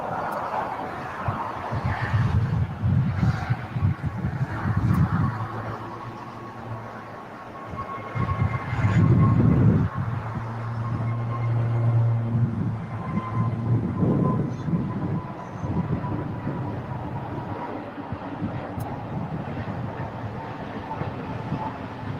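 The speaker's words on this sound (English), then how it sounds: "We've got actually a Frontier A320 Neo taking off." A Frontier Airbus A320neo jet takes off at LAX, a broad low rumbling roar that swells and lingers at a distance, steady rather than sharp, with outdoor background noise.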